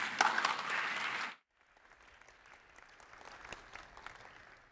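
A conference audience at a PyCon 2017 talk gives loud applause for the first second and a half, then it cuts sharply, and faint scattered clapping and room noise follow.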